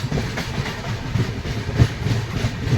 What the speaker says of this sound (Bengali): রাত প্রায় 10:30টার সময় finally train new Farakka junction enter করছে।